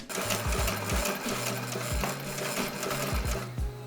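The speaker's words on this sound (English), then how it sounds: "On the inside flap, attach the Velcro right up to the edge, sewing all 4 sides." A sewing machine stitches Velcro along the edge of a fabric flap for a bouldering crash pad, running in steady mechanical bursts with brief pauses between runs, loud and close, with no talk.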